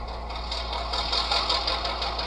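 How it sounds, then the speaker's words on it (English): Steady locomotive engine sound played through a small iPhone speaker fitted in an HO scale model locomotive, a continuous mechanical hum with a faint rhythmic pulse, clear and close, with no talking. "The engine sounds good."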